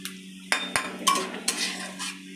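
A spoon stirs cumin, bay leaf and dried chili in a pan, giving scattered close scrapes and metallic clinks over a steady low hum, with faint crackling between strokes.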